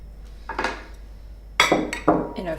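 Utensil scrapes and clinks against a bowl in short separate bursts as sugar is mixed with blueberries for a tart, close and fairly loud in a quiet kitchen.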